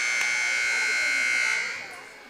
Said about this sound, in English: long substitution buzzer here, I've noticed tonight